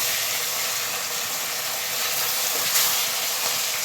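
Foli fish fries in hot oil after being flipped, giving a steady, dense hiss of sizzling oil close up, with a slight swell near the end.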